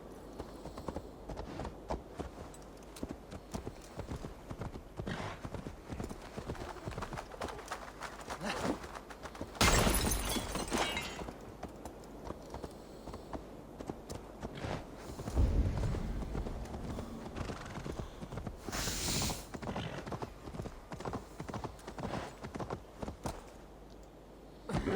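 Horse hooves clip-clop steadily in Assassin's Creed Valhalla, a continuous rhythmic trot at moderate distance, joined by a couple of louder rushing bursts of game sound midway.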